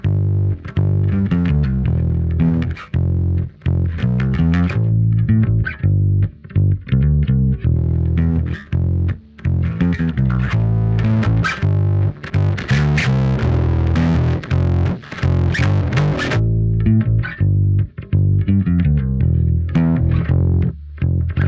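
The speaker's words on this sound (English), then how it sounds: "Cobra Fuzz, you can absolutely smash a sound with fuzzy distortion, or you can just add a little bit of grit to it" An electric bass played through a fuzz distortion plugin modeled on the Safari Pedals Cobra Fuzz, heard alone as loud, gritty, saturated notes in a steady riff with brief pauses.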